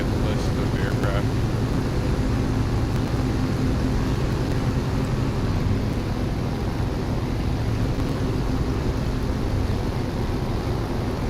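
Jet aircraft taking off in War Thunder, a loud, continuous engine roar with a steady low rumble and broad hiss that stays constant without pauses.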